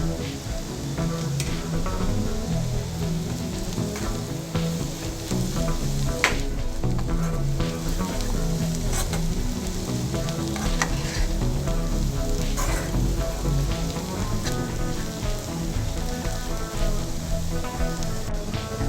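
Cabbage and chana dal stir-fry in a pan, giving off a steady, dense sizzle with an occasional scrape of stirring, close and continuous without any talk.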